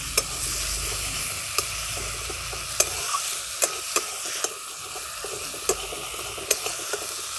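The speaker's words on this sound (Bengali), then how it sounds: "অল্প একটু রসুন বাটা এবার আরেকটু ভালো করে এই মশলাগুলোর সঙ্গে কষিয়ে নিচ্ছি" Garlic paste cooked down with spices in a pan for a katla fish curry gives a steady, close frying sizzle, with sharp spatula taps and scrapes against the pan at irregular intervals and no talking.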